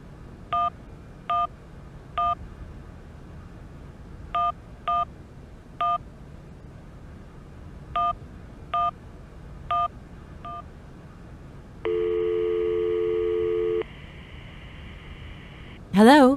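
Telephone keypad tones in the Syberia video game: about a dozen short, evenly spaced DTMF beeps in small groups, then a steady two-second dial or ringing tone, with a brief sharp sound at the very end.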